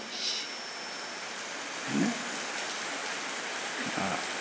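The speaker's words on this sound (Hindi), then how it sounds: "इसीलिए बारिश आई।" Constant broadband hiss of steady rain, with a couple of faint low thumps and a brief high chirp, no voices.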